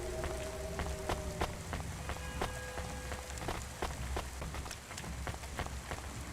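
Constant rain in the video game Cloudpunk: a steady, dense hiss of falling rain fills the whole stretch, with scattered sharp ticks and clicks and a few brief electronic tones over it.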